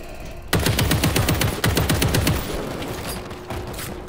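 In World War Z, a mounted gun opens fire with a sudden loud, rapid rhythmic stream of heavy shots for about two seconds. The volley then tapers into scattered, more distant gunfire.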